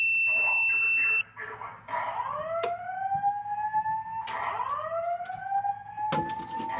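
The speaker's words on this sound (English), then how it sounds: "And this is a simplex voice evac Attention. signal." A Simplex voice evacuation system sounds its alarm signal during a test: a steady electronic tone cuts off, then loud rising whoop sweeps repeat several times, with a faint voice in the background.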